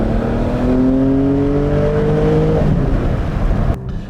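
Porsche 718 Spyder with steel brakes and an aftermarket Akrapovic exhaust, its naturally aspirated engine revving up through the range in rising harmonic sweeps, loud and close, then cutting off abruptly near the end.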